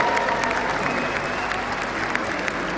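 An arena audience at a League of Legends European regional finals applauds Brandon Beck, a thick, continuous wash of clapping from a large crowd, steady and loud throughout.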